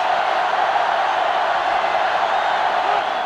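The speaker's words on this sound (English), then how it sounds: "Listen to this place. It's arguably the loudest crowd in the nation" Dense stadium crowd roar from a Florida Gators vs Tennessee Volunteers rivalry game in NCAA Football 2005, a steady loud wash of cheering with no breaks.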